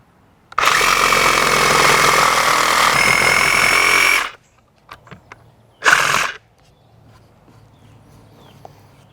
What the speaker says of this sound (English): My saw blade will fit right in there to now clean out the rest of the notch.